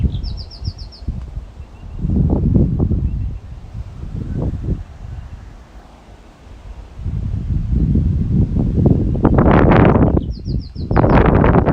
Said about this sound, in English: We just got a gust of wind.